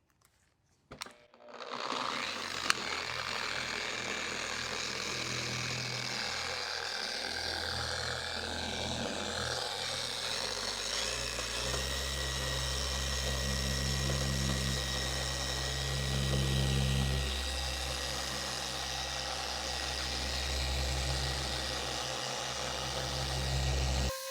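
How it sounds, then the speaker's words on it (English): A car paint polisher switches on and spreads polish over a panel for a ceramic coating job, a loud close motor whine and hum holding steady, with the low drone shifting as it ramps up to speed 4, no voices. "then I'll ramp it up to speed 4 on my polisher"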